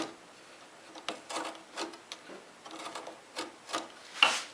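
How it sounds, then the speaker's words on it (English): A utility knife scores along the back edge of a pine board in a series of short, close scraping strokes with small gaps between them, the last stroke the loudest. "take my utility knife, now that I'm pretty close, and I'm just going to score right along that back edge"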